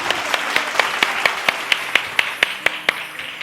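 A church congregation at a Bible study claps together in a steady beat, about four sharp claps a second, loud and close. A faint murmur of voices sits underneath.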